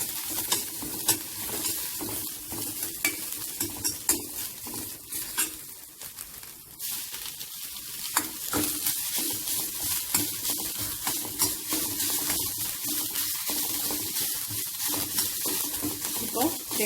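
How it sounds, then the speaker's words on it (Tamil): Ginger and coconut sautéing in a pan, with a steady sizzle under frequent scraping and clinking stirring strokes, continuing throughout with a voice talking quietly over parts of it. "நம்ம கட் பண்ணி வச்ச இஞ்சி கொஞ்சம் வதங்கினதுக்கப்புறம்"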